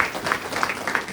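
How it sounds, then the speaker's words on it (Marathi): A congregation claps together to welcome volunteers who came for a cleaning drive, a steady rhythmic patter of many hands at moderate distance, filling the short moment without speech. "टाळ्या वाजवून त्यांचं स्वागत करूया"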